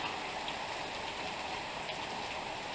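Heavy rain pouring down onto a flooding residential street, a dense, continuous hiss of drops hitting pavement and standing water, steady and close with no voices.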